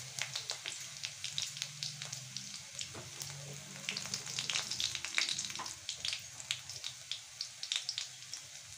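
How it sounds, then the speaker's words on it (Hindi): Spices and kalonji (nigella seeds) fry in hot oil, giving a steady crackling sizzle with frequent small pops and spatters, close and fairly quiet, with no talk. "अब मैं इसे अच्छी तरह से फ्राई कर लूँगी।"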